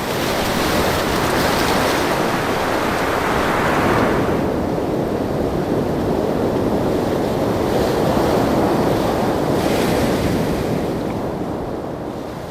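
Ocean waves break in a steady, loud roar of surf with wind noise over the microphone, a continuous wash rising and easing slightly throughout.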